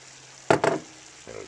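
Chicken fried rice sizzling in a pan, stirred in two quick scraping strokes followed by a short soft rustle, close and clear with no talk.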